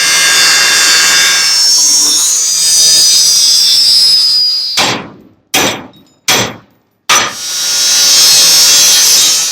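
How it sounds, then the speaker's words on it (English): Steel angle iron being cut off a trailer tongue with a power tool: a continuous harsh, loud cutting whine for about five seconds, then several short bursts broken by brief pauses before the steady cutting resumes. "I've got to cut this piece of angle off they've got welded here too"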